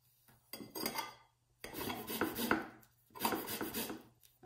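Washed tangerines are rubbed against a hand grater to take off the zest, giving three rasping scraping bursts with short pauses between, close and moderately quiet.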